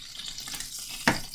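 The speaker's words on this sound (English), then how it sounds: "cooking up some steaks. You can probably hear that in the background." Steaks frying in a pan give a continuous, fairly quiet sizzle and hiss with a brief louder crackle near the end. No one speaks.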